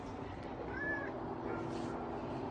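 Tiny kittens give a brief, faint meow in the middle of the clip over steady background noise at a trailside campsite.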